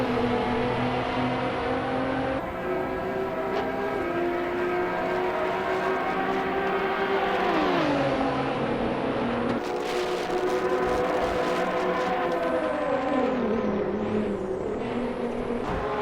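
GTR race cars lapping Monza in a racing video game, with loud continuous engine drones rising and falling in pitch as cars accelerate, shift and pass, overlapping throughout.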